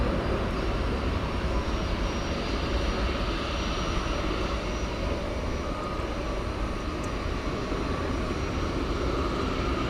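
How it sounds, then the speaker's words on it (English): An Airbus A380 airliner taxis over a bridge toward runway 17 right at night at Dallas Fort Worth airport. Its jet engines give a steady, broad roar heard from a distance, unbroken for the whole stretch. "This A380 is going over the bridge to take off on runway 17 right."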